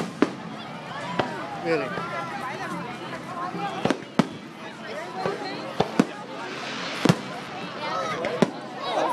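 Fireworks burst at a hot air balloon festival in Plano, a string of sharp, loud individual bangs at irregular intervals over crowd murmur, with a person talking between the blasts.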